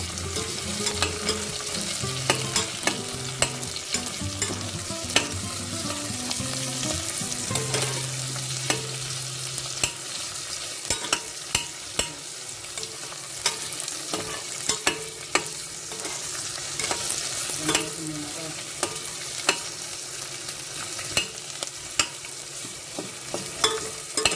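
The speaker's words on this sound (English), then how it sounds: "And now we're going to add the onions. Okay, adding the chunky onions." Chunky onions fry in a pan for Filipino-style ratatouille, giving a steady, close sizzle with frequent scraping stirs and clacks throughout; nobody speaks.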